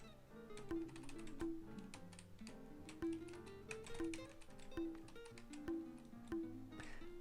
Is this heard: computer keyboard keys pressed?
yes